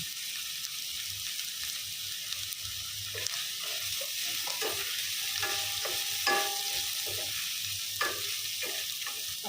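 Poha upma (rice flakes) fries in a pan while being stirred, close scraping and clinking strokes over a soft continuous sizzle, with no one speaking.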